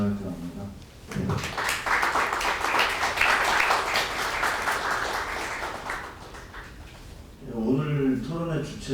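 Attendees at a forum on North Korea's party rules clap together for several seconds in a steady, moderately loud round, with someone speaking before and after.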